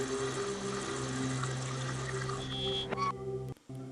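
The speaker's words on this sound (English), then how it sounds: "we need to fill the water canister" A water canister fills in the Buried In Time video game, a steady rushing pour of water with a hum under it that cuts off sharply near the end, close and alone.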